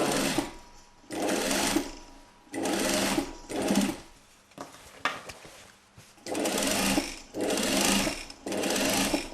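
A sewing machine topstitches a corset seam in repeated bursts of fast, even stitching separated by short pauses, loud and close, with handling noises in the gaps.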